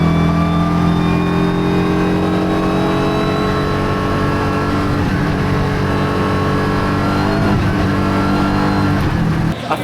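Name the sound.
GT4 race car engine at Spa-Francorchamps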